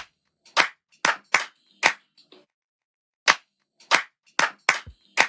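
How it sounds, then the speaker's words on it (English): A dancehall clap sample plays alone: about nine sharp, dry clap hits in an uneven, syncopated pattern with clean silence between them. "So I started off with this clap actually. This clap was what gave me the vibe."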